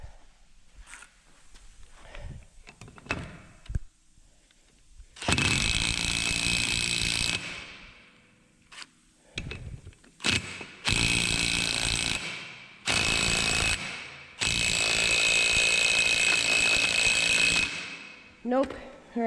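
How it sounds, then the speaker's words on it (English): Impact gun hammering at a 27 mm nut on the rear suspension of a Datsun 240Z, several loud rattling bursts of a few seconds each, close up, separated by pauses with faint clatter and movement. "hopefully my impact gun is strong enough to get it off"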